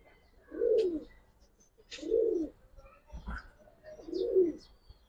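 Giribaz highflyer pigeons coo three times in a slow, even rhythm, each soft, throaty call close by with quiet pauses between.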